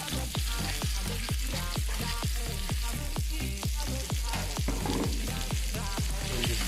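Ingredients sizzling in about a tablespoon of olive oil in a hot pan, a steady loud fry with a regular series of sharp knocks repeating through the clip, no voices.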